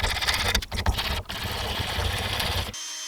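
A power drill whines steadily as it bores into lead, loud and close, with brief dips in pitch before it stops abruptly near the end.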